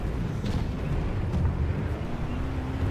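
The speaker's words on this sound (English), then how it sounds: "There's enemy tank there, firing on this area." An enemy tank fires on an area in the battlefield shooter Planetside 2, a steady rumble of heavy explosions and distant booms rolling together in a dense, continuous low roar.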